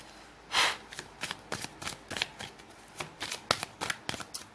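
Tarot cards being shuffled at close range, with a run of crisp riffling bursts and flicks coming in an irregular rhythm and nobody speaking.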